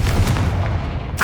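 A Confringo fire spell from Hogwarts Legacy bursts with a single deep, booming blast that rumbles and fades, followed by a brief higher crackle at the end.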